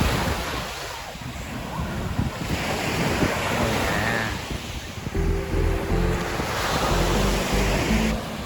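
Ocean waves wash onto Samae Beach on Koh Larn, Thailand, a continuous loud surf and wind rush with rumbling gusts against the microphone and faint background music.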